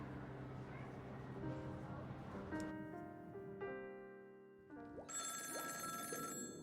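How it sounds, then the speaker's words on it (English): A telephone rings in the video game Honkai Star Rail, a repeated electronic ringing tone over background game music and a speaking voice, fairly faint and steady. "You answer that phone?"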